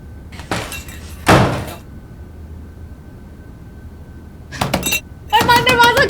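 A locked door is banged in a few short, heavy bursts of knocking separated by quiet, with a louder rattling burst at the end.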